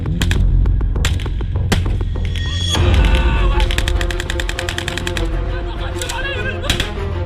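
Automatic gunfire from Hamas fighters attacking the Israeli army: sharp, rapid bursts and single cracks over a constant low rumble, dense and loud throughout, with some tonal clutter mixed in.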